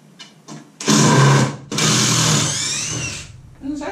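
A power drill runs in two bursts, driving screws into lumber while mounting an Andersen and Vreeland orbital letterpress, loud and close, with brief handling noise around it.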